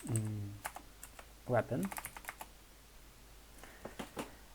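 Keys on a computer keyboard click in short bursts while someone types code, heard close and fairly quiet between stretches of a voice.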